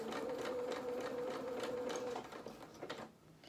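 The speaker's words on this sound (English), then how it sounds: "I probably will be stitching over the edge of my pins" A sewing machine stitches fabric for a small toy jacket at a steady, rapid whirring rhythm, then slows and stops, leaving quieter handling clicks.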